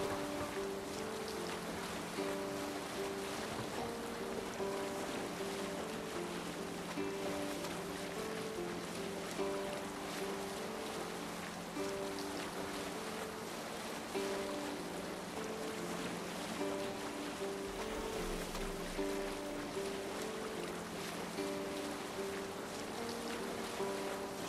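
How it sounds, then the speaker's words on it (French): Rowing a boat across the sea in a video game, with a steady wash of waves and wind around the boat and a low, continuous hum underneath, no voices throughout. "Ici, on va devoir ramer."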